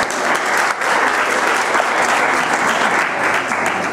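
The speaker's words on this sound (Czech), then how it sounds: "Tak, kdo tady fandí páru s číslem 6?" A dense burst of audience applause and cheering for dance couple number 6 at a junior Latin dance league competition in Týnec nad Sázavou, loud and sustained with no letup.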